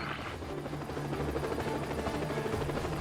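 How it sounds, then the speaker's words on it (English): A helicopter flies in the video game Renegade Ops, its rotor chopping in a steady loud throbbing drone with a constant hum underneath, heard on its own without talking. "So we get to fly a helicopter."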